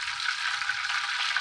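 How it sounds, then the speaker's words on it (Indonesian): Tempeh frying in a pan of hot oil gives a steady, dense sizzle with fine crackling throughout, fairly close and even in level. "Saya mau goreng tempe dulu sedikit,"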